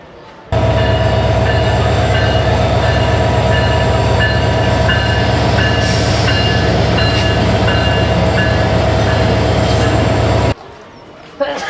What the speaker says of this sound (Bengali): এটাই হচ্ছে আমাদের ট্রেন মহানগর গধুলি আট নম্বর প্ল্যাটফর্মে